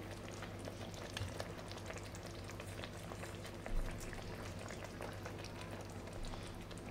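Fish frying in oil in a pan in a home kitchen, a steady dense sizzle and crackle running throughout, with one brief low thump midway.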